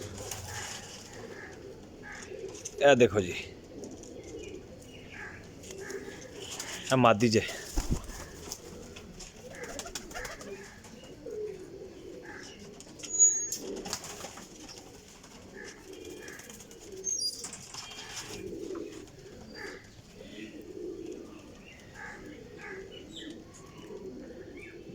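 High flyer pigeons coo softly and steadily, with a few sharp bursts of wing flapping near the start and middle, while someone talks intermittently in the background.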